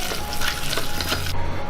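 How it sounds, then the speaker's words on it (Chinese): Minced meat mixed with crumbled soaked dried scallop, salt, pepper, soy sauce and starch is stirred vigorously in a bowl, giving close, wet, rhythmic slapping and squelching strokes with no talking. "搅拌上劲"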